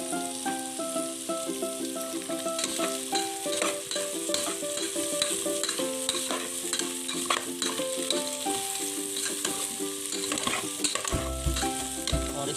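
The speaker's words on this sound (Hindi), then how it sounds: "थोड़ा सा हम बेह को फ्राई करेंगे इसी ऑयल में प्याज के साथ" Sliced lotus stem fries in hot oil with browned onions, a steady close sizzle with stirring scrapes throughout, while background music plays underneath.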